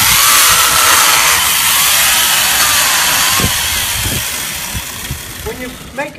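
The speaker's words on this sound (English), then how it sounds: "When you make a straight cut with a chainsaw, take the saw, you want to stand right in front of your ice." A chainsaw runs steadily while making a straight cut through a block of sculpting ice, a loud continuous drone that fades a little toward the end and ends with brief sharper bursts.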